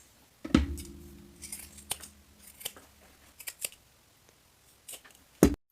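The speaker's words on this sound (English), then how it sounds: "Trim those seams and the topmost corners." Scissors snip through denim seams and corners, giving a sharp close cut at the start, then scattered lighter clips and rustles of jeans fabric, and a final crisp snip at the end.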